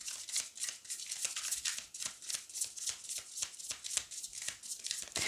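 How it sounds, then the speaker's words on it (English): A thick Light Seers Tarot card deck being riffle-shuffled, close and crisp, with a quick rhythmic run of papery flutters and snaps repeating steadily without pause. "let me show you how this deck shuffles"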